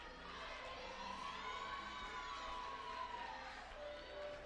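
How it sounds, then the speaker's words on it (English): Penn team supporters cheering at a college women's gymnastics meet at Temple, a continuous crowd roar with shouts and whoops echoing in a large arena, moderately distant and sustained throughout. "Could hear Penn, meanwhile, cheering on the team"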